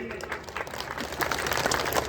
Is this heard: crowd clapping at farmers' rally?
yes